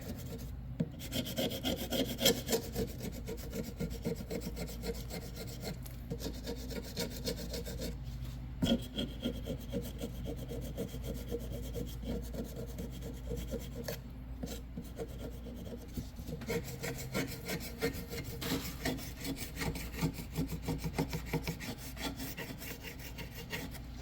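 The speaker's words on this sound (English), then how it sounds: "we'll finish scraping this off" Old finish being scraped off a wooden Pattern 14 rifle stock with a scraper: steady, close rasping strokes in a fast continuous rhythm for the whole stretch, without speech.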